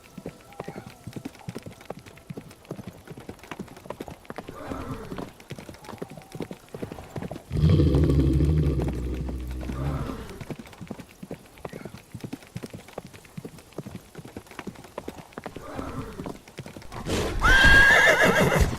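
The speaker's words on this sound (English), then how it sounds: "A Balverine then pounced and sunk its putrid claws into William's horse" Horse hooves clip-clop steadily with loud neighs and whinnies, a mare in a dark fantasy forest setting, with a burst of louder sound around the middle and again near the end.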